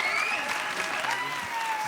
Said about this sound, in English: Round of applause for Catherine.